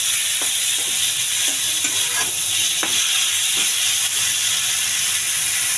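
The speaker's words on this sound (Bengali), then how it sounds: "এখন ভালো করে নেড়ে চেড়ে একদম ভাজা ভাজা করে নিব।" Boiled taro stolons (kochur lati) being stir-fried in a pan give a steady, close sizzle with scattered scraping clicks from stirring, with no voices.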